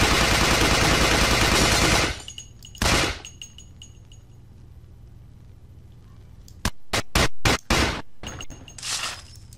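Gunfire in the horror shooter Resident Evil: The Darkside Chronicles: a long loud burst, a single shot, then a quick series of sharp separate shots followed by another short burst, with quiet stretches between.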